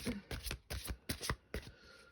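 Tarot cards being handled and set back in order on a table, with several short, crisp bursts of shuffling and sliding card noise close by, then a quieter pause.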